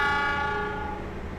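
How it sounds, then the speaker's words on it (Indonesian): Malabar regular passenger train pulling into platform track 1 at a station, a loud sustained horn tone fading over a rumbling rail background, no talk. "Yang masuk di jalur 1 itu adalah kereta Malabar reguler ya."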